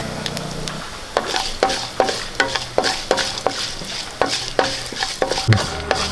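Urad dal and cashews fry in hot oil with mustard seeds in a pan for Kerala-style rava upma, sizzling steadily as a spoon stirs and scrapes in regular clinking strokes, close and fairly loud.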